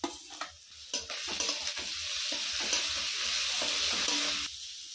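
Grated garlic and onions fry in oil in a wok, giving a continuous close sizzle broken by spatula scrapes and knocks against the pan, loud and with no voices.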